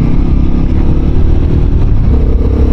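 A Royal Enfield Guerrilla 450 motorcycle pulls hard under acceleration, its engine a loud, close, steady drone with a strong low rumble and a slowly climbing pitch, heard alone.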